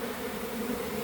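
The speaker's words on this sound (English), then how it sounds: "Oh my goodness, bees are covered. Just covered in bees." Dense, steady buzzing of a honeybee swarm at a hive hidden beneath a shed floor outdoors on a hot day, a continuous close hum with no talk.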